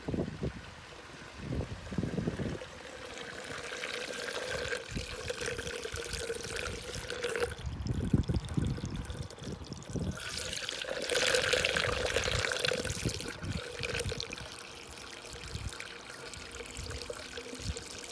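Water trickling and pouring out of a wicking garden bed, a continuous close splashing flow that swells and eases over time, with some handling noise and no speech.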